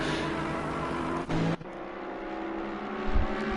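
GT race cars, including a GT3 Ferrari and a Mercedes, battle through the opening lap at Oulton Park, engines roaring and whirring past in a loud continuous blare with a sharp cut midway and a brief low thump near the end.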